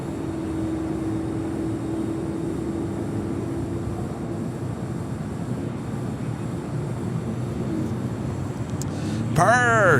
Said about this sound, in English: Next departure, 25 right, Alaska SkyWest, operated by SkyWest Airlines, heading to Seattle in an E175LR